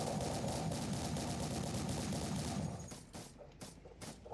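Sustained automatic gunfire from the Uncreated Warfare video game rattles densely for a few seconds, then breaks into scattered separate shots.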